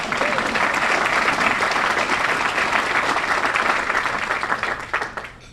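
An audience applauds for an 84-year-old woman at a public forum on safe drinking water, a dense, steady wash of clapping that holds strong for about five seconds before thinning out at the end.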